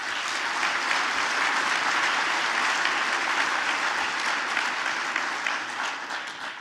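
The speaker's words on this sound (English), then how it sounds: "Let's give them a round of applause." A large convention audience at a track and field coaches' opening session applauds in a dense, sustained roar of clapping that holds steady and eases slightly near the end.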